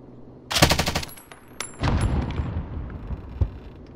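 Video game gunfire rings out in rapid bursts, with a loud automatic volley followed by a second rumbling burst and a sharp single shot, close and punchy.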